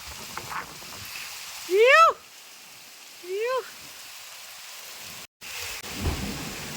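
Heavy rain hisses steadily throughout, with two short rising vocal sounds breaking through and a low rumble near the end.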